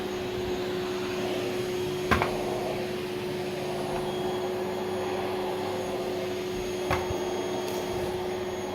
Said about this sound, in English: That's the dots coming in the machine.